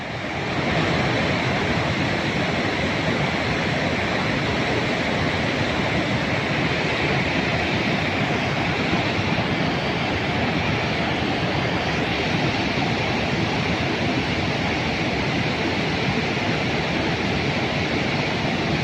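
Steady, loud rushing water flows without pause inside a mountain in Norway, a dense roar that stays constant throughout.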